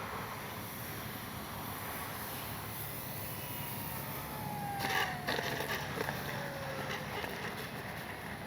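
Spitfire-style X-Fly RC model plane from an airfield flying session, a steady distant engine drone with a faint rising and falling whine drifting past, louder around the middle, over outdoor ambience with no talking.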